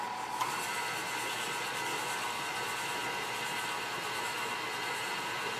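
An electric mixer creams cookie dough ingredients with vanilla pudding mix, a steady whirring drone that holds at an even, moderate level without pause.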